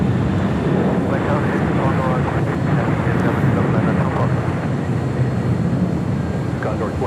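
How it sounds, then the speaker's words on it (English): Condor Airbus A330-200 airliner, white with a green striped tail, arriving at LAX on Flight 2080 from Frankfurt, a steady broadband engine roar filling the whole stretch while a voice talks over it. "On the north side, Condor bringing in the A330-200 today, Flight 2080 coming in from Frankfurt"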